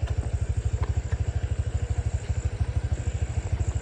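A motorcycle rides a rough, narrow dirt road in Big-ot, Anda, Bohol, its engine thumping in a steady rapid pulse close by, with rattling and clatter over the bumps throughout.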